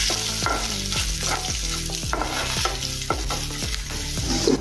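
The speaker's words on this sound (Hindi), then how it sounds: "अभी हम लाल मिर्च डालेंगे सूखी वाली" Dried red chillies hit hot oil in a pan while making dal, giving a loud, close, steady sizzle with repeated stirring scrapes of a spoon against the pan, and no one speaking.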